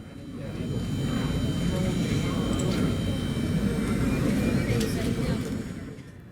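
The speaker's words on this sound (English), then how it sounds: "we could see our inbound aircraft touching down on runway 26 right" A Delta MD-88 jet airliner touches down on the runway, heard from the apron as a broad jet roar that swells, holds steady, and fades away, with no speech.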